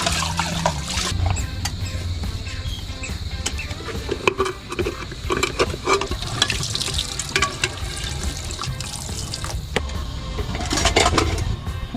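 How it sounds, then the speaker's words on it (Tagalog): Dishes washed under a running tap at a riverside campsite: a steady stream of water splashes and patters with clinks of crockery throughout, close and fairly loud, with a few brief words spoken. "So, samahan niyo akong maghugas."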